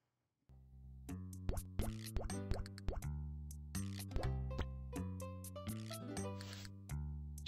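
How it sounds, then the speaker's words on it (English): Hot chocolate is stirred in the video game Papa's Freezeria, heard as a run of cartoonish plopping and squelching effects with springy tonal bursts, clean and isolated over silence after a short pause at the start. "Trying to stir my hot chocolate"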